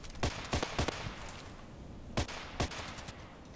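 Sniper rifle gunfire in a video game: a few sharp, loud shots spaced apart, two early clustered cracks and two more later, each standing alone with no talk over them.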